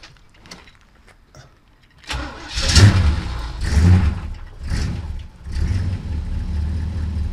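A cold car engine idles with a low exhaust rumble through a small exhaust, swelling in a few rough bursts after a quiet start; brief voices can be heard early on.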